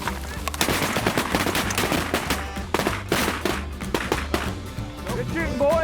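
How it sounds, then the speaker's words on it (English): Hunters firing shotguns in the field, with rapid overlapping volleys of loud, sharp blasts from several guns close by, some cracks nearly simultaneous, and a voice briefly calling out near the end. "Good shooting, boys."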